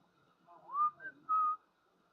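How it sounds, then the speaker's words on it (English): A person whistles a short tune nearby, a few clear rising and sustained notes over roughly a second, alone with no talk, during a live computer and console repair session. "Sorry, I had to whistle because my mom was saying something"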